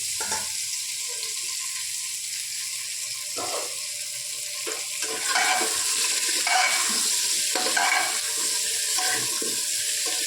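Papaya and potato pieces stirred in hot oil with whole spices, a steady hissing sizzle with repeated scraping strokes of a spatula, close and even, no voices.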